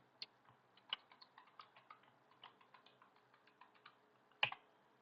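Quiet typing on a computer keyboard, a run of light irregular key taps ending in one louder, sharper keystroke near the end, close and alone.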